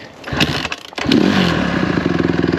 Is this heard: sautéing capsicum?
no